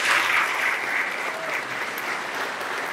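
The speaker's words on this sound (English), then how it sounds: "Let's get a round of applause." Audience applause at a team member headquarters grand opening for the Phoenix Suns and Mercury, a steady dense clapping from a large crowd that stays loud throughout without fading.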